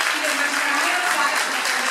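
An auditorium audience at a school event gives steady, loud applause welcoming the principal, a dense wash of clapping with no pauses.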